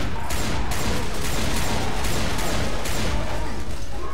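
Rapid gunfire in the Left 4 Dead 2 video game, a dense barrage of repeated shots crackling nonstop, some louder bursts standing out, with no clear talk.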